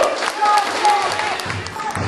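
Applause and crowd noise at a political party rally speech, a steady loud wash of clapping filling the whole moment with no clear voice over it.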